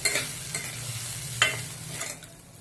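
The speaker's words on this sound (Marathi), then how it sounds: "तांदळावर आपण हे ड्रायफ्रूट पण परतून घेऊया तुपामध्ये छान परतून घेऊया" Dry fruits and rice being sautéed in ghee in a pan, a soft steady sizzle with a few scraping stirs of the spoon at intervals, no voices over it.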